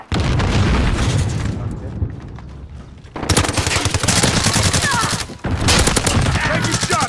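Rapid gunfire in a shooter video game, with dense bursts of automatic fire and booming shots that pause briefly near the middle and again late, then resume loud and close.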